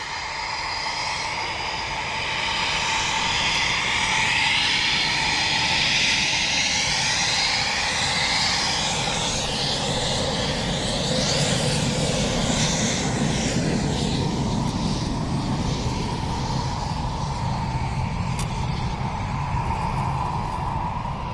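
A Eurofighter Typhoon jet passes at RAF Coningsby, a loud sustained engine roar that swells and sweeps in pitch as it goes by, with no voices over it.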